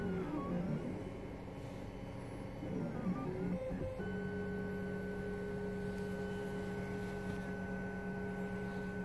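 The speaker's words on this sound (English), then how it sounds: "It's printing a little skirt around the bookmark." A 3D printer lays down a skirt around a bookmark print, its stepper motors whirring in shifting tones that settle into a steady high-pitched whine, close and moderately quiet.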